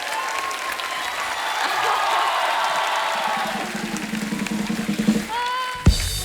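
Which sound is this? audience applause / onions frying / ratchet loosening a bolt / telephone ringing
audience applause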